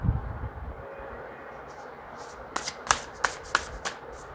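Tarot cards shuffled by hand, a soft rustle that builds into several crisp riffling bursts in quick succession near the end, with no voices.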